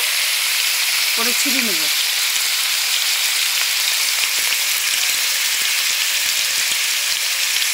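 Cabbage and other vegetables fry in a pan for vegetable chow mein, giving a loud, steady, close sizzle throughout with a brief spoken voice early on.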